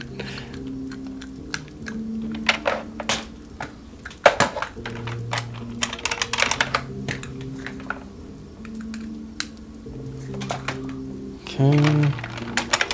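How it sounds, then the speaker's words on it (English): Keys on a computer keyboard at a home desk tap out scattered, uneven clicks, close by, under a steady hum of background tones, with a brief louder burst near the end. "So we're gonna be using this keyboard for tonight."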